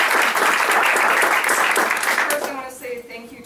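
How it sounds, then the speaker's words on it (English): Audience members at a team gathering clap loudly together in a burst of applause that fades after a few seconds as a voice begins speaking. "Everyone can applause."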